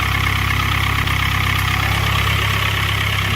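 A turbocharged Mitsubishi Eclipse with a 420a engine idles steadily, a loud, close, even engine drone with a slightly lumpy, cam-like rhythm and no talking.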